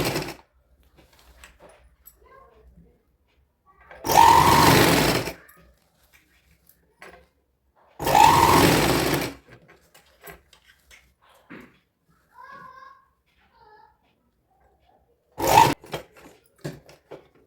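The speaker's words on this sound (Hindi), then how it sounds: "यहीं पे हम सिलाई लगा देंगे तो हमारा आड़ा टेढ़ा नहीं होगा।" A sewing machine stitching the seam of a baby's dhoti kurta in three separate short runs of a second or so each, close and clear, with quiet handling noises in the pauses.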